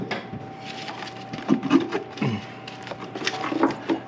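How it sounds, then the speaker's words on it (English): A tool pries up the valve cover on a 2006 Toyota Highlander, breaking the gasket bond with a few sharp creaks and cracking snaps up close, over a faint steady hum. "Now we're just gonna pry up like so, break that bond."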